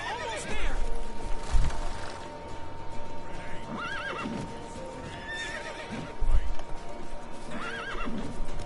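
Horses whinny several times over steady game-like background noise in The Witcher 3, with a heavy thump or two, sounding fairly close.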